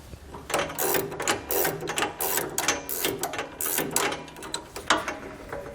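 Rapid ratcheting clicks from a hand tool loosening the nut on a sway bar end link of a 2016 Ford E-Series van, close and busy in repeated bursts with short pauses between them.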